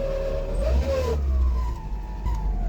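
A car engine running with a whining, jet-like tone, a steady low rumble under a high whine that glides slowly downward, close and moderately loud, with no talking.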